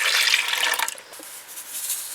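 Milk poured from a cup into a Ninja Speedi pot already holding quick-cooking grits and water, giving a close, steady splashing rush that lasts about a second before fading to a quiet trickle.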